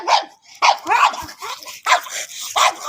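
A puppy barks repeatedly indoors, about five sharp close yaps in an uneven rhythm, loud and alone.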